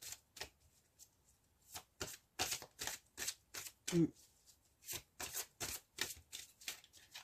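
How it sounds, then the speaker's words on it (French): Oracle cards being shuffled by hand, a long series of quick, close riffling and slapping bursts in an irregular rhythm, with a brief voice sound partway through. "je vais tirer une carte de vos anges pour avoir un petit message supplémentaire"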